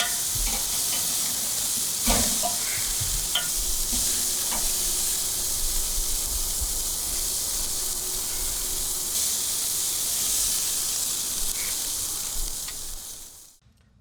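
Vietnamese lemongrass pork chops sear over a hot barbecue grill, giving a continuous bright hissing sizzle with occasional pops and faint clanks, loud and close, cutting off abruptly at the end; no talk.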